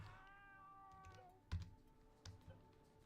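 An indoor cat gives a fading, drawn-out meow at the start, followed by quiet sharp keyboard clicks and taps in a hushed room.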